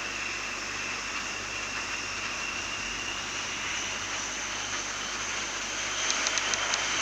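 An airplane taking off in the Emergency Landing video game, heard as a steady, even jet engine roar with a high whine that continues throughout.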